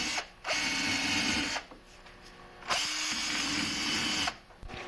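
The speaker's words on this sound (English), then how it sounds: "I'm going to run my soft wire brush on my drill on the edges of the carb here where the seal goes" An electric drill spins a soft wire brush against the seal edges of a Craftsman 5.5hp lawnmower carburetor in two loud, steady whirring bursts, each winding down to a quieter hum in between.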